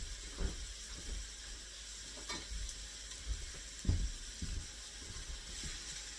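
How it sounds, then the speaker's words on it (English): Matchstick carrots sautéing in a pot for a lemon turkey Greek soup give a quiet, steady sizzle, broken by soft scraping stirs at irregular intervals, with no talking. "I want to go ahead and kind of get them sauteed and softened up a little bit"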